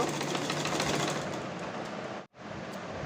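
A sewing machine runs in a steady fast mechanical drone while stitching around the neckline of a dress, then cuts off briefly and starts again.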